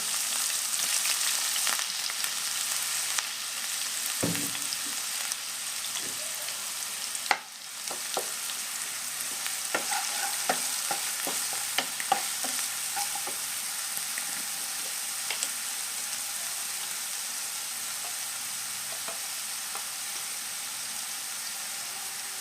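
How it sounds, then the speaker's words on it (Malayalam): Chopped onions fry in a pan for a homemade samosa filling, giving a soft continuous sizzle. A clunk of a utensil and scattered light scrapes and taps of stirring are heard, without speech. "പിന്നെ ഇതാ കട്ട് ചെയ്ത് വെച്ച സവാള ഇട്ടു"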